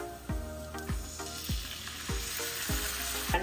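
Chilli sauce is added to a sizzling pan of onions and capsicum for dry gobi manchurian; steady frying crackle runs throughout, punctuated by about six evenly spaced low thumps, no talking.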